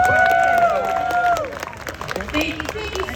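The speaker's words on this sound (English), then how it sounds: "give a round of applause to Liz Barbour" An audience at an outdoor cooking event in Hollis Monument Square applauds for chef Liz Barbour, clapping mixed with crowd noise and cheering while a voice talks over it, fading slightly toward the end.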